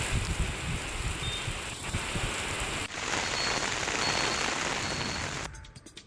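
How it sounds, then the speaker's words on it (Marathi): Heavy evening rain pours over Vasai-Virar as a dense, continuous wash of falling water and drops on surfaces. It stays steady and loud, then quickly fades near the end. No voices. "वसई विरार भागात संध्याकाळी पावसाने धुमाकूळ घातलाय"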